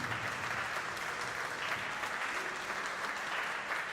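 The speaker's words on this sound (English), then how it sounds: "a round of applause to all the cadets" Steady, dense applause from an audience honoring NJROTC cadets at a change of command ceremony, continuous and evenly sustained throughout with no voices on top.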